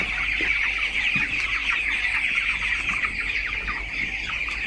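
Dense, continuous clucking and chirping from a large flock of broiler chickens on a poultry farm, steady and moderately loud, with a constant low hum beneath.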